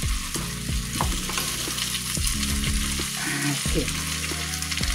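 Ingredients for macarrones a la riojana are stirred as they fry in a pan, with a constant loud sizzle and repeated scraping strokes over a low steady hum. Someone speaks briefly.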